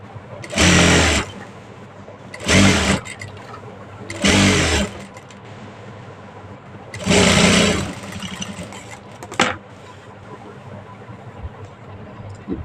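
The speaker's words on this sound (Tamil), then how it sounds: "இப்போ அது மேலே ஒரு படிமான தையல் போட்டுக்கலாம்." A sewing machine stitches a hem on an old blouse in four loud motorized bursts separated by quiet pauses, then a brief knock near the end, close and with no talking.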